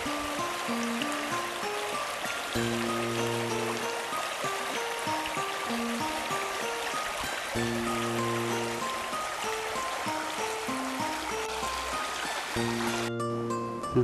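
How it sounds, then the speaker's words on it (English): A small beck trickles behind a house in Winchcombe, a steady soft rushing of water running continuously beneath a looping melodic music track. "it does actually have a little beck running behind it"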